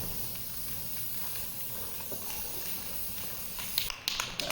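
White primer sprayed onto a vehicle bumper, a steady broadband aerosol hiss running close throughout and broken by a few short louder bursts near the end, no voices.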